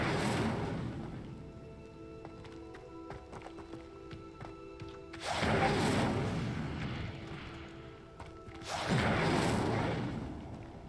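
Two Incendio fire spells cast in Hogwarts Legacy erupt as loud roaring whooshes several seconds apart, each swelling then fading over a quiet tonal game backdrop.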